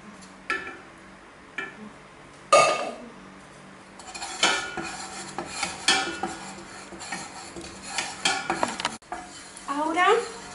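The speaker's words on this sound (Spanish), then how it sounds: "Vamos a añadirlo también y vamos moviendo para integrarlo todo." A homemade liquid laundry soap gel is stirred with a utensil in a container, giving repeated knocks and scraping clinks against the sides at an irregular rhythm, close and moderately loud.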